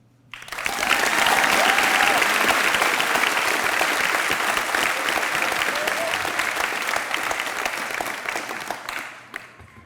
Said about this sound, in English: could we please get a round of applause for Ms. Fletcher, Mr. Flint, and every other unsung hero that set up this graduation to perfection